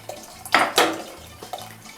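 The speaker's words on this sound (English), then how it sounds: "I'm gonna use this container of stock plus 1 cup of water." Vegetable stock and water poured into a cooking pot, two short splashing gushes of liquid close by, followed by faint dripping, with no voices.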